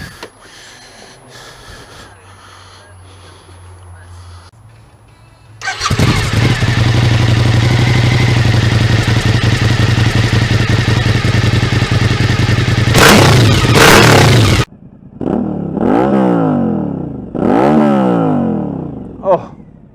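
A Suzuki V-Strom 1000 motorcycle fitted with a Black Widow exhaust fires up after a quiet moment, settles into a loud, throaty idle, then is blipped through several sharp, rising revs close by.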